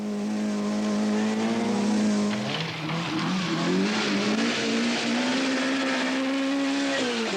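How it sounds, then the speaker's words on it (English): A small Peugeot rally car on a 1982 Welsh Rally forest stage screams and revs continuously as it races downhill past, pitch rising and dipping through gear changes, loud and close with no talking. "Hurling the diminutive Peugeot downhill to great effect is Michael Sundström."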